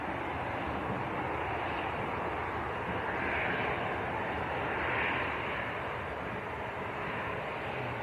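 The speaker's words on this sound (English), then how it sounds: "We've got a EasyJet on short finals as well," An easyJet airliner on short final into Manchester Airport produces a steady, distant jet rumble that swells slightly as it passes, heard alone without speech.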